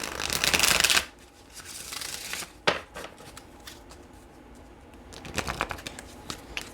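A deck of cards is shuffled close up in a quiet room, with a loud riffle at the start, a sharp snap partway through and a second riffling burst near the end.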